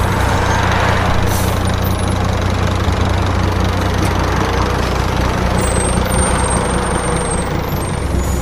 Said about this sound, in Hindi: बस की आवाज तेजी से मेरे करीब आई